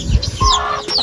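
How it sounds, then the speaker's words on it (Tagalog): Large chickens cluck in a few short bursts, close and clear, in a quiet outdoor setting. "Dagko kay mga manok oh."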